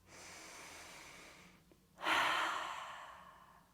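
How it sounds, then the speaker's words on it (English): A deep yoga breath: a soft, steady inhale through the nose, a brief pause, then a stronger, airy exhale through the mouth, close and quiet with no talking. "taking a big inhale through the nose and an exhale through the mouth"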